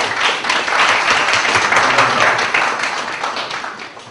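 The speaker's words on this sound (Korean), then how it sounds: "큰 박수 부탁드리겠습니다" An audience at a tech conference gives loud, dense applause welcoming a speaker, a continuous wash of many clapping hands that holds steady and then tapers slightly, with no talking over it.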